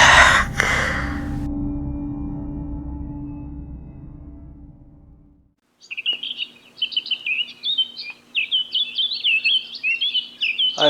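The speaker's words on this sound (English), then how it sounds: "I heard the sound of the birds chirping before I opened my eyes." Several birds chirp and tweet in quick, bright bursts, fairly close and continuous, following a fading low rumble and a moment of near silence.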